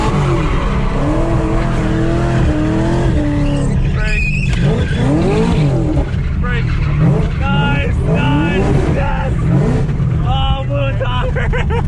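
A diesel car revs hard and skids its tires across a lawn, with loud sweeping engine pitch and squealing, scrubbing tires, while people shout and talk over it throughout.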